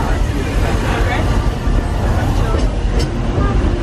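Walt Disney World Railroad train rolling through Magic Kingdom, a loud steady rumble of the cars on track with crowd babble and voices around throughout.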